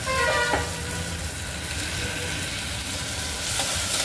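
Fenugreek paste frying in a pan for methi khichdi, a steady close sizzle running throughout with a couple of brief clinks near the start.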